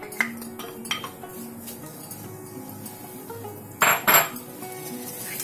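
Leek goes into a frying pan with oil, heard as a few light clinks and taps of utensil on pan, then a louder burst of handling and scraping near the end over a quiet steady background.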